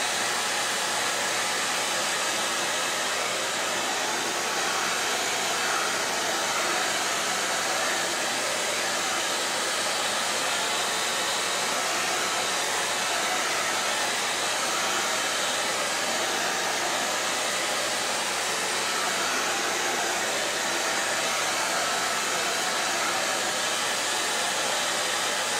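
A hair dryer blows steadily to dry a freshly poured acrylic pour painting, a continuous loud broadband whoosh lasting the whole stretch with no talking.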